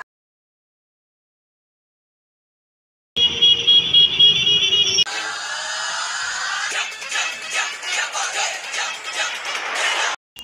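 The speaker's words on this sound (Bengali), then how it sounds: "নিচেটা দিয়ে তো দেখতেই পাচ্ছ গাড়ি ঘোড়া, সব গাড়ি বাস চলছে" Road traffic with cars and buses passing in Kolkata's Sector 5 area, heard as a steady, fairly loud roadway rumble after a few seconds of silence, with a sharp horn-like tone early on and engines droning through to the end.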